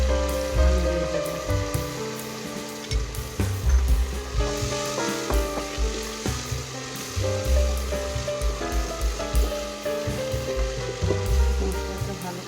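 Ground spice paste for biryani frying in a pot, a continuous sizzle that runs beneath louder background music for the whole stretch.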